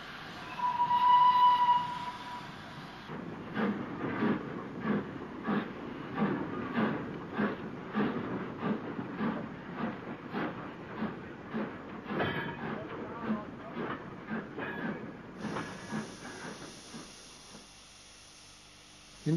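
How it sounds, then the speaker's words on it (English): An ex-North Eastern Railway Class B16 steam locomotive rumbles past at close range, with rapid rhythmic clattering of wheels over rail joints that gradually slows, then a steady hiss lingers at the end. "Mirfield received a variety of foreign classes as steam declined, such as this ex-Northeastern Railway Class B16."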